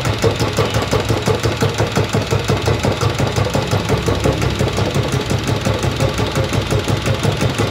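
A Kubota E50 engine idles with a loud, steady, rhythmic chug. The regular knocking pulse holds an even beat throughout, with no voices.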